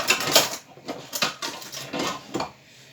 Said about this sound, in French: Je vais la râper très finement.